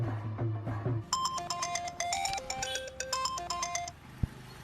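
A mobile phone ringtone plays while a call is placed to dad in a home, a bright repeating electronic melody of quick chiming notes, near and alone, ending in a soft click.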